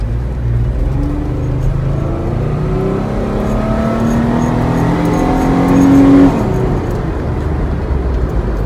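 Jeep Wrangler fitted with a throttle controller accelerating hard, engine rising steadily in pitch and loudness, then a gear shift drops it back as it pulls on from inside the cabin.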